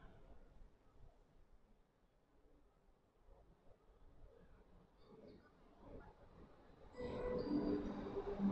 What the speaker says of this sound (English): There is our train.